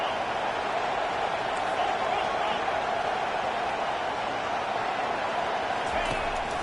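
Football stadium crowd at an SMU vs Clemson game roaring steadily behind the defense on a big third down, a broad sustained wall of noise with a commentator talking over it.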